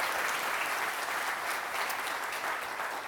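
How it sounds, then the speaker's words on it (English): A crowd at a convention gives organizer Kyle Elrod a round of applause, steady close clapping from many hands that fills the whole stretch without pause. "If you guys could thank Kyle for me with a round of applause"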